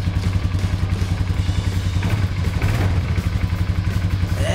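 A motorcycle engine sound effect in a Playmobil toy police chase film revs with a rapid, pulsing mechanical rattle, loud and close, rising in pitch slightly as it accelerates without a break.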